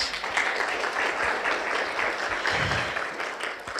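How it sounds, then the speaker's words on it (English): Audience applause, a sustained wash of many hands clapping for a few seconds, moderately loud and fairly even throughout. "Round of applause for David."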